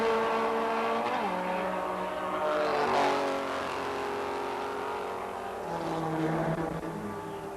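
Racing cars from a 1980 SCCA D Production national championship race, engines droning and revving as cars pass, pitch sweeping down on a loud close pass-by then another car approaching and passing.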